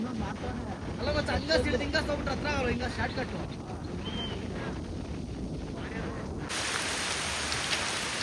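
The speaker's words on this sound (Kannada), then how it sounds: "ಫುಲ್ಲು ಅಂದರೆ ಫುಲ್ಲು ಮಳೆ ಇದೆ" Heavy rain pours in a dense, continuous hiss in dense forest on the Dudhsagar trek while a person talks over it; the downpour sounds louder and closer toward the end.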